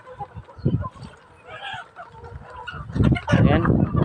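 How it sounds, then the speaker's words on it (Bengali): Chickens on a poultry farm cluck and murmur close by, a large hen feeding, with soft fowl calls rising toward the end as a person talks nearby. "দেখেন বড় মুরগি চেষ্টা করে খাওয়া দিচ্ছে"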